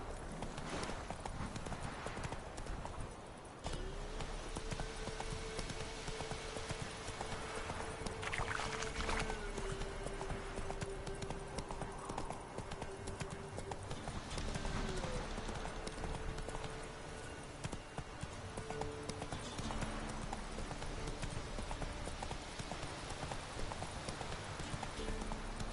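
Horse hooves clip-clop at a steady galloping rhythm in The Witcher 3 video game, close and continuous, with a rider's voice briefly heard over the hoofbeats and ambient game music.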